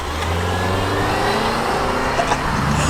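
A four-cylinder car revving at a Raleigh park car meet, a loud, steady engine roar with a rising drone that stays close for the whole span and is heard alone.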